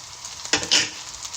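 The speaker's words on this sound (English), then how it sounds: "Stir it for 10 seconds." Spoon stirring turmeric and food color into sizzling butter chicken in a pan, a steady close hiss broken by two quick scraping strokes.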